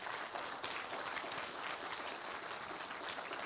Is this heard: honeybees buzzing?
no